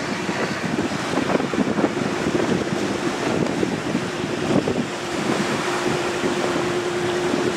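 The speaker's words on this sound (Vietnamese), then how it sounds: "coi sóng nó đập rồi kìa" Storm waves pounding a fishing boat out at sea, heavy rushing surf and gusting wind blending into a loud, continuous roar with a low steady hum beneath, no voices.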